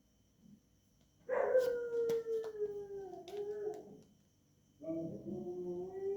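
A dog howls in long, drawn-out, falling wails, one extended howl followed after a short pause by another, fairly close with a quiet background.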